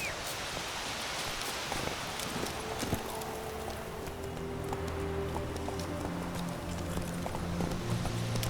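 Geralt's horse Roach trots in The Witcher 3, a steady run of soft hoof clip-clops over faint rustling and ambient game noise, with a low tonal music drone rising toward the end.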